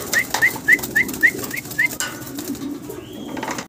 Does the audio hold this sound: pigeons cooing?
yes